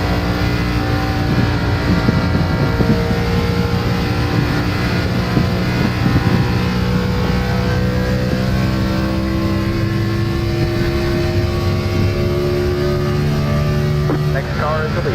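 NASCAR Gen 4 race car engines drone steadily in iRacing at Charlotte, several cars' harmonic whines layered and sustained at high revs, loud and continuous with a commentator talking over them.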